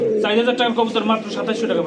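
Pigeon cooing at a wholesale pigeon market, a close, rolling coo running steadily under loud nearby talk.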